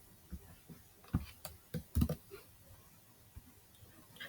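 Faint, sparse clicks of a computer keyboard while a MATLAB script is typed, with a few sharper keystrokes in the middle over quiet room noise.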